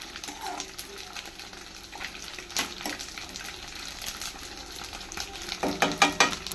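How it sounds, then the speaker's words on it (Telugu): Onion, curry leaves and green chillies frying in oil, a low crackling sizzle broken by stirring scrapes, with a brief run of water near the end and soft talk in the background. "ఫ్రై అయింది కదా ఉల్లిపాయను కరివేపాకు పచ్చిమిర్చి"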